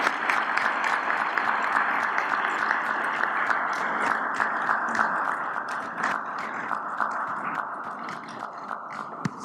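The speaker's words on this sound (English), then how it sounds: "a round of applause for Ambassador Kwesi Quartey" A summit audience applauds Ambassador Kwesi Quartey at a business leaders' summit, dense sustained clapping with crisp individual claps standing out, tapering slightly toward the end.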